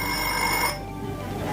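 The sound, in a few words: alarm celebration sound effect from Promethean timer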